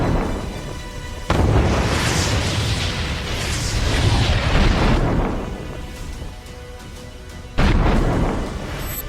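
FAB-500 glide bomb air strikes in eastern Ukraine: heavy booming blasts that start abruptly, one at the outset and another near the end, each swelling into a long, rolling roar that slowly fades.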